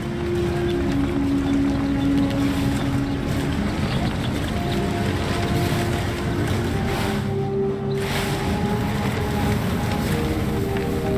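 A vehicle crosses rough terrain in the Starfield video game, with a steady, loud rumbling drone and wind-like rush running unbroken throughout.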